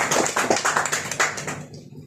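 Loud applause from a seminar audience, a dense burst of many hands clapping that fills the room and then stops abruptly near the end.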